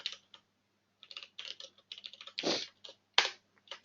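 Computer keyboard typing while entering HTML code, close and clear, in short irregular bursts of clicks with brief pauses, no talking.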